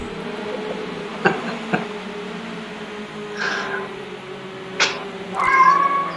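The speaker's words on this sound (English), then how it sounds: "And Ryan, even your cat agrees with me." A cat meows several times, with short separate cries and a longer drawn-out caterwaul near the end, set against a steady low hum and no speech.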